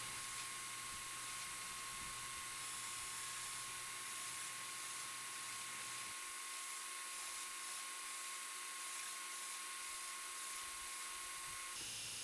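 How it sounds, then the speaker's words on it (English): A slack belt grinder with a 120 grit belt finishing a forged steel rounding hammer, a continuous high hissing whir that stays steady throughout, with the low hum dropping away partway through, no voices. "So now I'm putting the final grind on the hammer. I'm starting off with a 120 grit belt."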